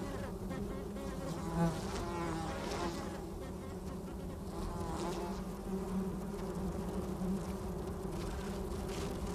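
Bees buzz steadily around cactus flowers in the Sonoran Desert, a dense, continuous insect hum held close and even throughout, with no voices.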